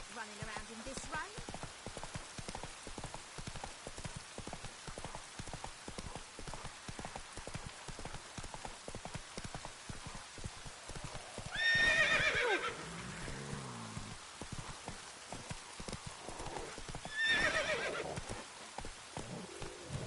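Roach the horse gallops through rain in The Witcher 3, a steady rapid clip-clop of hooves with rain patter beneath, broken twice by a short loud neigh.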